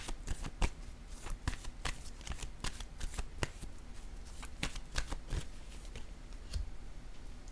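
A deck of tarot cards shuffled by hand, a rapid series of crisp riffling slaps and flicks that continues steadily throughout, close and fairly loud.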